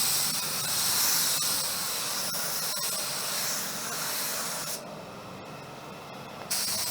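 Hiss of a spray gun laying down Glasurit 90 line paint from a Walcom gun, a continuous bright airy spray with short breaks and trigger pauses near the end.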